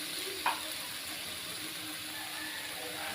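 Cut potatoes fry in oil with salt, giving a soft, even hiss throughout, with one brief utensil click near the start as they are stirred.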